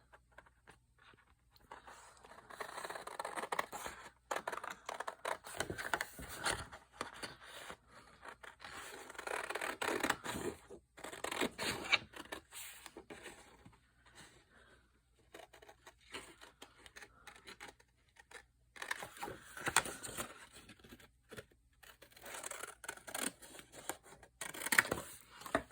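Scissors cut out a paper cutout for a hidden-pocket journal page layout, giving close, quiet bursts of snipping and scraping in irregular runs with short pauses between them.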